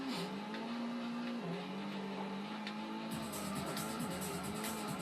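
A 700-horsepower race car engine in a Gran Turismo video game, a steady loud droning engine note that shifts pitch slightly as the car accelerates, heard alone without talk.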